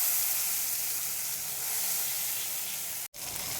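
A freshly ground spice paste hits hot oil in a pan for chicken kofta curry. It gives a loud, steady, close sizzle and hiss that continues throughout, with one very brief dropout near the end.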